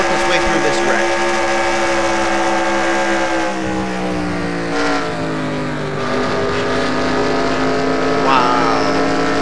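Onboard with the Aspen Dental Toyota in a stock car racing video game at Texas, the engine roars loudly and continuously, its pitch sliding down and rising again through the gears over a steady high drone.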